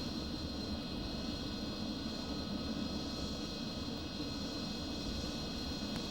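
MiG-29 fighter jets of the Strizhi aerobatic squadron fly during a display. A steady, fairly faint jet roar holds without a break, with no talking.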